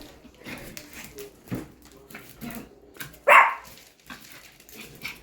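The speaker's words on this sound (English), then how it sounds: "I don't know what she's barking at." A pet dog barking indoors at home, one sharp loud bark standing out amid fainter household sounds and a few softer yips, with people talking quietly around it.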